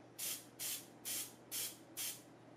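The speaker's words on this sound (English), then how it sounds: "and sprayed it with white paint." Five evenly spaced bursts of hissing white paint from a Prevel sprayer onto a fishing lure, each about a third of a second, close and fairly loud over a faint steady hum.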